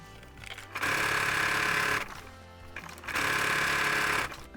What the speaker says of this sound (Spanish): Yo estoy cosiendo con el prensatela común, el normal que viene con la máquina